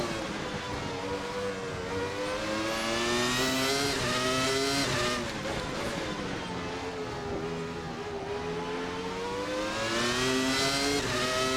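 A Williams FW19 Formula 1 car on Goodyear slicks, driven in a racing video game, screams with a loud, continuous high-revving engine whine whose pitch climbs and dips through gear changes and corners, with no voices over it.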